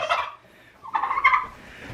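Turkeys on a small farm gobble in two loud, close bursts of rapid warbling calls with a short quiet gap between, no talking.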